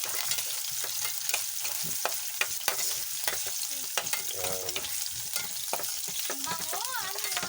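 Garlic and onion sauté in a hot pan for menudo, a steady crackling sizzle throughout with repeated sharp scraping clicks of a spatula stirring, close and fairly loud.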